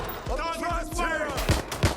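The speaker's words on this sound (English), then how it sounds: "Gunfire over there." Gunfire in the video game Watch Dogs Legion, several sharp shots popping in an uneven sequence amid game sound effects and character voices.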